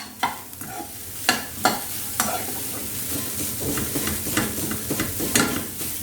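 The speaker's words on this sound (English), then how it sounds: "Crumble it in such a manner that there's no lumps or too big pieces." Steamed dough pieces crumble and stir in a hot pan, with the spoon scraping and tapping in uneven strokes over a low, steady frying sizzle.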